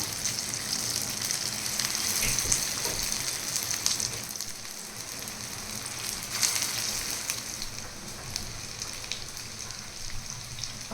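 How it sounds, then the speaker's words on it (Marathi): A crispy veg cutlet fries in hot oil in a pan, giving a dense, continuous close sizzle with bright crackling bursts throughout. "तेल इथे छान गरम झालेले आपण आता एक कटलेट ह्याच्यामध्ये सोडून घेऊया"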